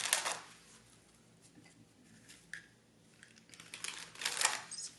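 Oracle cards being shuffled during a tarot reading, a quiet riffling and flicking that comes in short bursts at the start and end with soft papery rustle in between.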